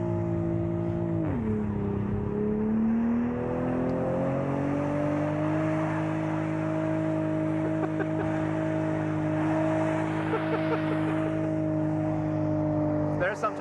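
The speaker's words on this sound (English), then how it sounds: "let me just do a quick burnout first" A 1,000 horsepower Ford Mustang doing a burnout, its engine holding a loud, sustained high rev with a droning tonal whine as the tires spin, after a brief dip in pitch early on.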